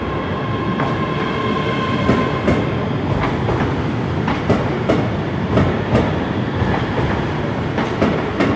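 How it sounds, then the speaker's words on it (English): A ScotRail Class 385 train rolls through Glasgow Central station, with a steady rumble and rhythmic clicks as wheels pass rail joints, plus faint squeals, and no talk. "This one would be the stopper to Edinburgh, going in behind the CrossCountry service, which is also heading to Edinburgh."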